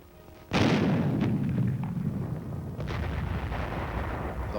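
Weapons fire on a military training range, including a .30 caliber machine gun and a recoilless rifle: a sudden loud blast opens, followed by a sustained rumbling roar with scattered sharper reports.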